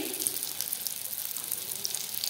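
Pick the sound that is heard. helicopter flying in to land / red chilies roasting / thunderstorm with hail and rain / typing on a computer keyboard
red chilies roasting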